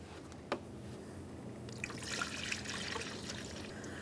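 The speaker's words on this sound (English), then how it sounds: "Continue on with that funnel, remove the plunger from in the center," Coolant trickles through a funnel into the radiator of a 2012-2015 Honda Civic 1.8L I4, a soft steady dribble with a few small splashes and drips, close and fairly faint.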